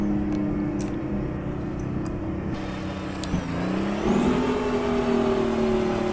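A Detroit Diesel 6V92 truck engine in American Truck Simulator drones steadily under engine braking, its pitch dipping and then climbing as the brake is let off, with a thin high whine rising in the background.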